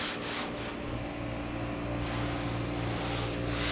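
Sandpaper is rubbed lightly across the bottom of a foam surfboard, a soft continuous close scratching hiss with slight changes in stroke.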